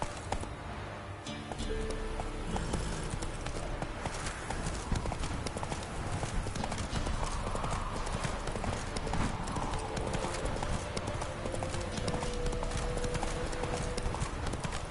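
Horse galloping in The Witcher 3, with a fast continuous clip-clop of hooves throughout over game ambience and music, plus brief in-game voices.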